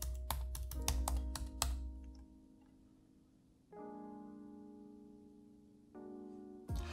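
A computer keyboard being typed on at a Mac login password prompt: a quick burst of close, crisp keystrokes at the start, then a quiet stretch with faint electronic tones and one last tap at the end.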